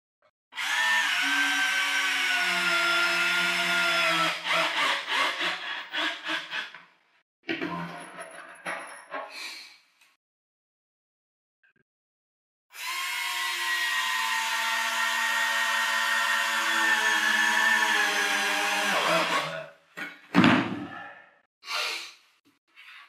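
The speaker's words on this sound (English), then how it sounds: "Just put a couple of screws through that." A power drill driving screws into a wooden station frame on a boat, two long whining runs with rising pitch, each followed by brief clicks and handling noises.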